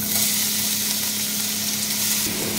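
Onions and garlic fry in hot oil in a pan, a steady dense sizzle with occasional stirring, close and continuous with no talk.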